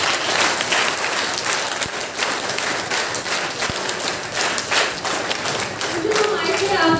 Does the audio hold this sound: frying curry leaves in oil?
no